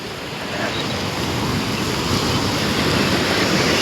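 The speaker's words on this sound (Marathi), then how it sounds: "बघू शकता तुम्ही समुद्राचं पाणी" Sea surf washing onto the beach at Kundapur, a steady, loud rush of breaking waves mixed with buffeting wind against the microphone, swelling slightly over a few seconds with no voices.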